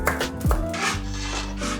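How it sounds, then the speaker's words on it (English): Knife chopping kangkong stems into 2-inch pieces on a board, a few quick crunchy cuts with scraping in between, close and clear. "cut the stems into 2-inch pieces"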